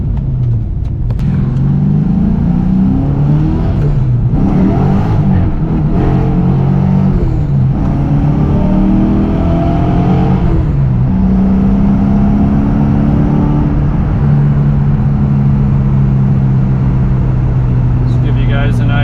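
A 1993 Ford Foxbody Mustang with a naturally aspirated 408 stroker V8 rumbles and revs hard and close up, its engine pitch climbing and falling through repeated pulls, with a voice talking over it.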